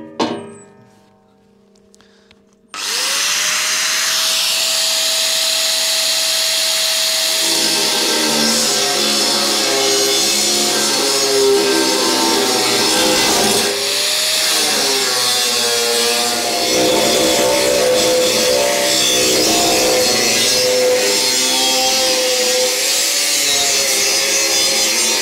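An angle-grinder-like power tool bites into sheet metal for a motorcycle rear-weight build, beginning abruptly after a short quiet lead-in and then holding a loud, continuous, close, harsh whine with shifting pitch for over twenty seconds, with no talking.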